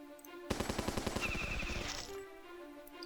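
UMG turrets in the strategy game Battle Nations unleash a loud, rapid burst of machine-gun fire, a rhythmic stream of sharp shots lasting about a second and a half before trailing off.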